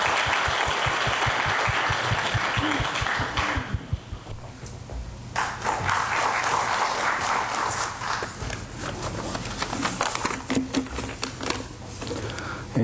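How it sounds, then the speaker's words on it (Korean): Audience applause at an awards ceremony, starting as fast, rhythmic, evenly spaced clapping that then breaks into a looser, sustained round of scattered claps. "여러분 환영의 박수 부탁드립니다."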